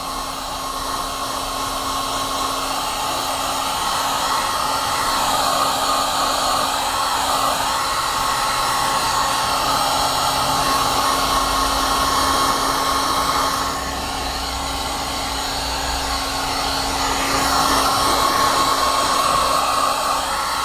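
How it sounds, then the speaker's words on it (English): A hair dryer or heat gun blows steadily on the fresh coating of a worn steering wheel being restored, a continuous close whooshing whine with a slight change in pitch partway through and no talk. "another round of the hair dryer or heat gun"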